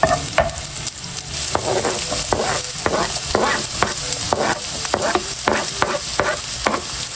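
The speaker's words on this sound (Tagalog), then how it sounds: "ako po muna ay magigisa po ng ricado" Garlic and onion sautéing in a hot pan as the base for squid adobo, a loud continuous sizzle broken by regular scraping spatula strokes about twice a second, close up with no talk.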